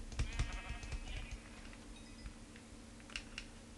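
A sheep bleats several times in Minecraft, thin wavering calls in the first couple of seconds, alongside sharp keyboard-like clicks and taps that continue to the end.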